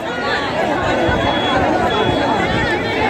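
A large crowd gathered at the inauguration of the Munger Ganga bridge, a dense continuous murmur of many voices outdoors, with one person speaking close by over the babble.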